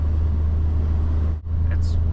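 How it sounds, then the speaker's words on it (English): Low steady engine drone of a vehicle towing a trailer downhill under engine braking, a constant rumble with a brief dip near the end and a faint squeak after it. "It's what's called engine braking."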